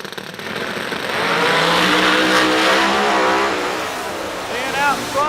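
A drag racing car makes its run down the track at a Verge Quick Outlaw Series meet in Huntsville. Its engine roars loud and steady with a rising pitch, while a commentator talks over it.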